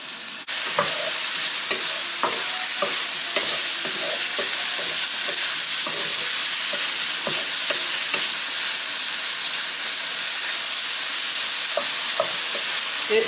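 Top sirloin beef browning in a frying pan for stroganoff, a continuous bright sizzle with intermittent stirring scrapes and taps, near and steady, no voices.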